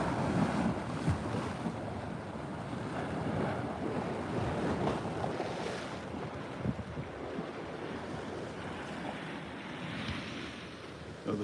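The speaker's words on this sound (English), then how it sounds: "you can hear the waves splashing on the steps" Waves splash and wash continuously against the waterfront steps at the San Francisco Marina near the Golden Gate Bridge, with steady wind buffeting the microphone and no voices.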